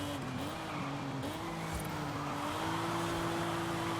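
A Nissan drifting in Forza Horizon 5: a steady engine drone with a sustained tire squeal wavering in pitch over about four seconds, loud and continuous with no talking.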